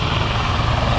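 A helicopter flies over a New York City street, its loud, steady rotor roar filling the whole second without pause.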